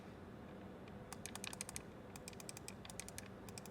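Clicky keys on a second mobile gaming controller with a switch feel, pressed in rapid, close clusters of sharp taps like keyboard typing, quiet and crisp against a faint hiss.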